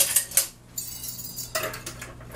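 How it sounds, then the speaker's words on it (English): Cloves and cinnamon whisked in a bowl: quick clinking scrapes of a whisk against the bowl, a burst at the start, a short pause, then another run of brisk tapping strokes, close and alone. "let's go ahead and whisk it a little bit"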